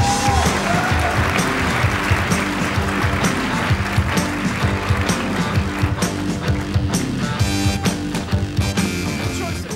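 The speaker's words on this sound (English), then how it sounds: "Please welcome CC Chapman." A conference audience applauds as a keynote speaker is welcomed at a travel bloggers' event, with a steady wash of clapping layered over loud, pulsing walk-on music throughout.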